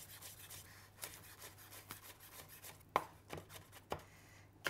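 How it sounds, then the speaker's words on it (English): A kitchen knife chops through a bunched handful of fresh parsley on a board, giving quiet, irregular cuts with a few sharper knocks toward the end, and no one speaking. "bunch all your parsley up. So I've got a handful here. And then just run your knife through it."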